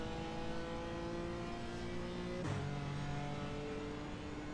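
A BMW M4 GT4 race car in iRacing at the Gilles Villeneuve circuit holds a steady engine tone, with a sharp pitch shift around the middle as the driver lifts and gets back on the power.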